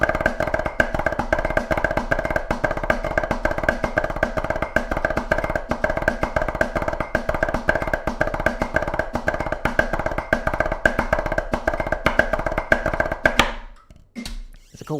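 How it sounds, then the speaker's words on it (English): Flam five rudiment played after an accent on a drum, fast even strokes in a dense repeating pattern at a quick practice tempo, continuing for about thirteen seconds before stopping. "But the flam 5 after sounds like this."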